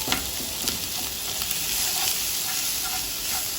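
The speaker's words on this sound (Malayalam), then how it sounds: "ഉള്ളി നല്ലതുപോലെ ഇനി വഴറ്റിയെടുക്കണം" Chopped onions with salt sautéing in a pan, a steady close sizzle with faint stirring scrapes and no talk.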